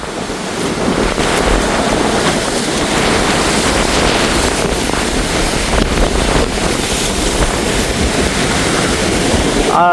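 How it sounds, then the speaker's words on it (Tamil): Rough, storm-driven sea waves crash continuously onto the rocky coast at Keerimalai, Jaffna, in a loud, dense roar with heavy wind buffeting the microphone throughout. "இப்போ வந்து இந்த கடல் கொந்தளிப்பாக இருக்கிற காட்சியை பார்க்குறீங்க"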